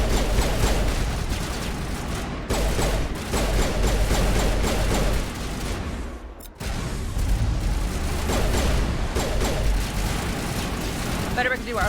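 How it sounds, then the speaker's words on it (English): A Mass Effect firefight rumbles with continuous explosions, rattling gunfire and turret shots, a loud, dense barrage that drops out briefly near the middle before resuming. "there are a lot of explosions in the scene anyway because there's all the gunfire and there's the turrets too"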